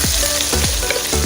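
Boiled chicken sizzles loudly in hot cooking oil in a home kitchen pan. The steady crackle is broken by a few scraping stirs, and no one speaks.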